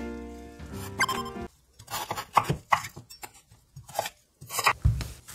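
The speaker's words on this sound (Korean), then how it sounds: "소고기는 조금 두툼하게 잘라 주시는 게 좋고요" A knife cuts beef into thick slices on a cutting board, giving several sharp, close chopping thuds and crunches in an uneven rhythm with short pauses, no talking.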